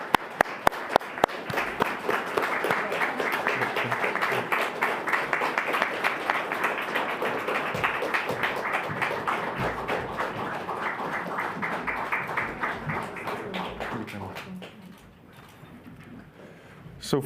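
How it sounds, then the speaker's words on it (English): Sustained applause from a conference audience at a European summit in Prague, honoring the female summit managers: dense, steady clapping that starts with a few sharp claps, holds evenly for about fourteen seconds, then fades. "Ladies, you deserve a huge applause, and please come here."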